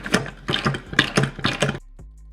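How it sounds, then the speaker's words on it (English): Romaine lettuce spun in a salad spinner, giving a rapid series of loud ratcheting, whirring bursts from the crank and gears that stop abruptly near the end. "I have my lettuce here, and I'm gonna give it one last spin"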